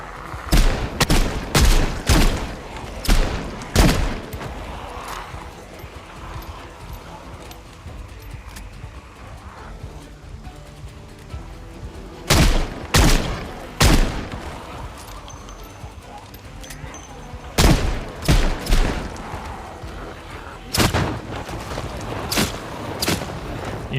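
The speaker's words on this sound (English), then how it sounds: "I feel like my shotgun is starting to lag." Shotgun blasts from the video game Project Zomboid ring out in loud, close clusters of several shots separated by pauses, over a steady game background with occasional talk.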